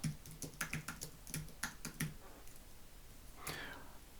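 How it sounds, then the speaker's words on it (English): Close, quiet typing on a computer keyboard: a quick run of crisp key clicks, a short pause, then a final softer burst of keystrokes. "I'm just going to start typing over here"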